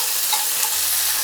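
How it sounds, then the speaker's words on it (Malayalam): Curry leaves and dried red chillies fry in hot oil for a dry fish and raw mango curry, giving a steady bright sizzle and crackle, close up and brief. "കുറച്ച് കറിവേപ്പില ഇടുകയാണ്. 2 വറ്റൽമുളകും. ഇനി ഇതൊന്ന് മൂപ്പിച്ചെടുക്കാം."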